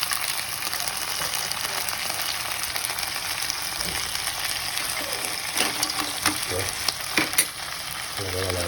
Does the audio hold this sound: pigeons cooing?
no